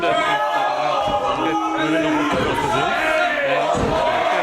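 Arena crowd at a live wrestling show keeps up a loud, steady roar of cheering throughout, with a commentator's voice running over it.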